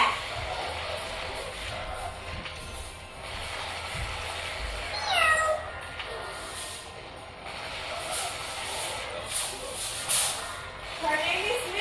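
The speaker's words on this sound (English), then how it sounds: "Did I hear a cat?" A cat meows a few times, short rising calls scattered through a busy room with people talking and background hiss.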